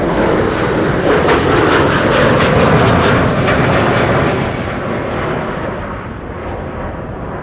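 A Sun Express passenger jet arrives at Amsterdam Schiphol Airport with a loud, broad engine roar close overhead that slowly fades as it passes. No voices are heard.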